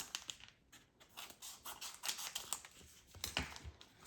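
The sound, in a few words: cutting open toy packaging with scissors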